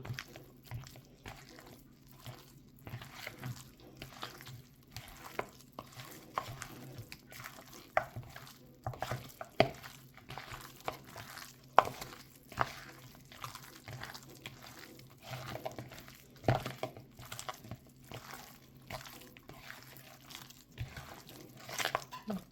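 Meat being stirred in a pot while Tunisian mulukhiyah cooks, soft wet scraping and crunchy clicks of the utensil recurring irregularly, close but fairly quiet.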